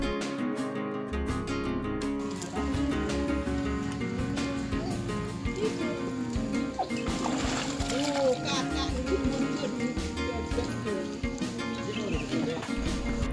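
Family members splash while swimming in a villa pool in Batu, Malang, with steady water splashing and children's and adults' voices talking and shouting throughout.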